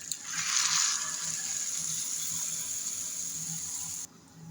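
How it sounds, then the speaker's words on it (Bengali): Milk pours into a pot for chicken pulao in a steady, faint, close stream of liquid lasting about four seconds, then stopping abruptly. "এবার দিয়ে দেবো আমি দুধ।"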